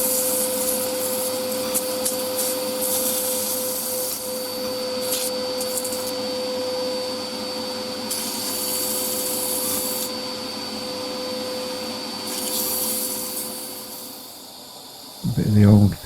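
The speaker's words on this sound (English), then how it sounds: "I'm going to start the sanding process here" A spalted hazel lidded pot being sanded on a running wood lathe, a steady motor whine with a high tonal hum and intermittent bursts of abrasive hiss, then winding down to quiet with a short knock at the end.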